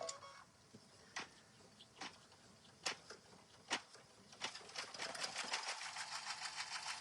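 A sewing machine stitching with pink thread makes scattered sharp clicks and taps, then settles into a quicker, steady rattling run near the end, fairly faint and close by with no talk.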